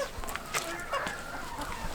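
Chickens, including pheasants, clucking and a rooster calling amid coop bustle, moderately near, with scattered short clucks over a busy background.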